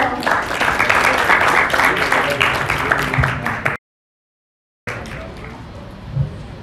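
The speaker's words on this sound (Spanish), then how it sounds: "Un aplauso." Audience at a church gathering claps in a brief, dense round of applause that cuts off abruptly, followed by a silent gap and then a quieter room with a voice speaking.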